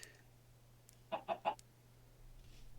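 Three quick clucks from a chicken in a Minecraft modpack video game, fairly faint and evenly spaced, with a low steady hum underneath and no talking.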